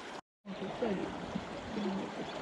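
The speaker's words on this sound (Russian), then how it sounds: "Вот так вот по таким шлюзам сливают." Water draining through sluice gates from a shallow, weedy marsh on a coastal wetland, a steady rushing trickle that continues evenly after a brief silent gap.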